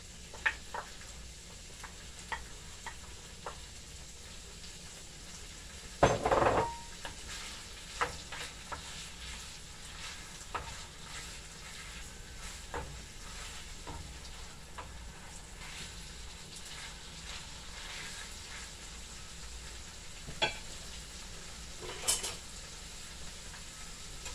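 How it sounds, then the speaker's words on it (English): Saltfish and ackee sizzle softly in a pan for a long stretch, a steady low hiss with occasional scrapes and a couple of sharper clinks of the spoon, no talking. "So guys, I'm putting in the saltfish. And then after that, I'm going to put in the ackee."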